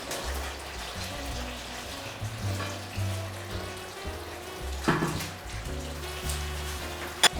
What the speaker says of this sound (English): I will now put kofta, Nargasi Kofta in the gravy sauce.